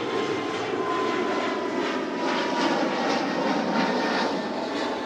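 Boeing 777-300 jet airliner at Toronto Pearson airport, a steady broad engine roar that holds at an even level throughout, fairly close with no talk over it.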